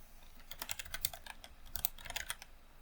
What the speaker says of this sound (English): I installed little circular rubber things on every single key of this keyboard with the tiny instruments, and it still is incredibly loud.